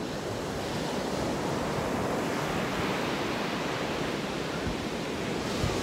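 Stormy sea waves surging up over a flooded beach, a steady, dense roar of surf and wash close by with wind buffeting, continuous and loud throughout.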